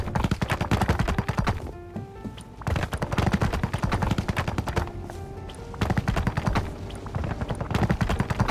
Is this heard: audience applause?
no